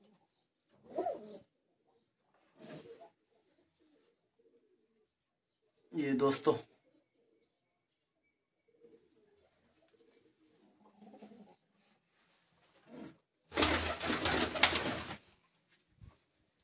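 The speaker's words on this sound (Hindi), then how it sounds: "ये कबूतर देख लें बिल्कुल देसी कबूतर" Desi pigeons cooing on a rooftop, a few short soft coos spaced apart, close and clear, with someone speaking briefly and a louder burst of noise near the end.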